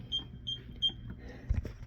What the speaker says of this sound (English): We gotta set the alarm.